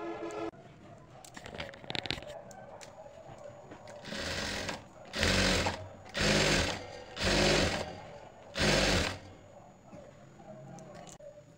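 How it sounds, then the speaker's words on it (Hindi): A sewing machine stitches elastic onto the bottom of trousers, starting with a few hand-turned clicks and then running in five loud, steady bursts separated by short pauses, close by with no talk over it. "तो इस तरह से अब हम इस पर सिलाई लगाएंगे एक बार, और बीच में सिलाई हम यहाँ पे बड़े टाँके की लगाएंगे।"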